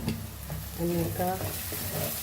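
Pork sorpotel being stirred with ground masala in a pan for a traditional Goan curry, a steady close scraping and soft sizzle with faint voices in the background.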